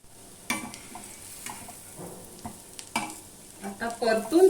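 Moringa leaf and onion vadas fry in oil, sizzling and crackling under bursts of stirring and scraping, growing busier and louder toward the end.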